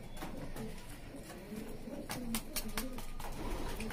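Pigeons coo softly and repeatedly at close range, low throaty calls over a noisy background with scattered knocks and rustling.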